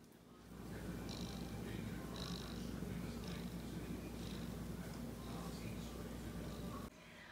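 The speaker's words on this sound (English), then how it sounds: "I don't know if you could hear her purring in that earlier clip," A soft, continuous cat purr rumbles close by from a cat in a pet sling carrier, low and steady, with faint background noises over it.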